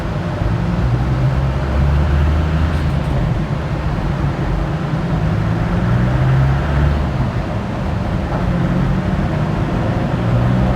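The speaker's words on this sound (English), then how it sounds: "Bring the vehicle up to 3000 RPM and then tell the dyno that it's at 3000 RPM" Land Rover Defender Td5 diesel fitted with a GTB550 turbo and Darkside tubular manifold, running on a dyno at steady revs, a loud continuous droning engine note with a low rumble that holds nearly constant throughout.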